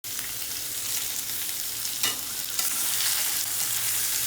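Finely chopped onions hitting hot oil with mustard and cumin seeds, a dense bright sizzle that swells as they land and keeps crackling steadily up close.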